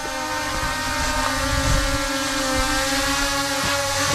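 Steady high-pitched buzzing whine of a Holy Stone HS360E quadcopter drone hovering and flying after an automatic takeoff, close and constant with faint wind rumble, no talking.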